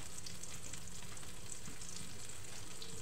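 Eggplant omelette (tortang talong) frying in hot oil, a dense continuous sizzle and crackle, close and steady throughout with no talk.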